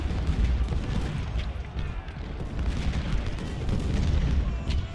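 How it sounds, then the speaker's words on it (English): Cannon and artillery fire from a Civil War battle in the strategy game Ultimate General: Civil War, heard as dense, continuous rumbling booms with repeated low blasts over a noisy battlefield din and no speech. "Cannons drove them back once again. Cannon fire comes to the rescue."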